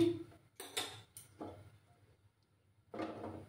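Several quiet metallic clanks and knocks as a pan is handled and set on a gas stove, separated by short pauses, close by.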